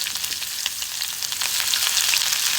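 Onions and whole garam masala fry in about three tablespoons of oil in a pan, giving a steady, close crackling sizzle that grows slightly louder midway, with no talking.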